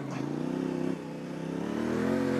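A Yamaha Ténéré 700 motorcycle revs under throttle climbing a steep offroad slope, its engine droning loud and close, dipping briefly before rising steadily again with some clatter.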